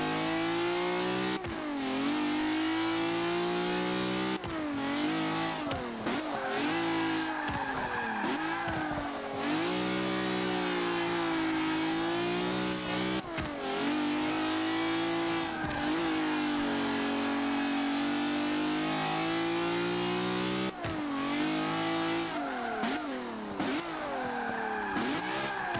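1973 BMW 2002 Turbo racing in Forza 5, its engine revving and surging through gear changes with tyre squeal on corners, continuous and up close for the whole stretch.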